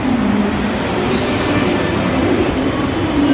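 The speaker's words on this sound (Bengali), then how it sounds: "so this is Bangalore metro" Loud, steady rumble of a Bangalore metro train running through a station, a constant low roar with faint rattling and no voices.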